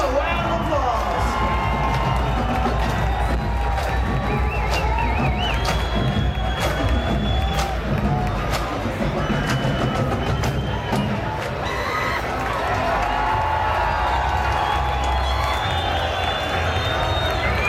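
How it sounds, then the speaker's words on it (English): A large outdoor festival crowd cheers, shouts and claps for a school marching band, a dense, continuous roar of voices and applause. "school marching band, ladies and gentlemen. Give them a round of applause."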